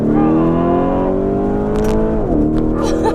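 A Mansory-tuned Lamborghini Urus SUV with over 800 horsepower accelerates hard, its engine note climbing steadily, dipping briefly at a gear change, then pulling again, heard from inside with voices reacting.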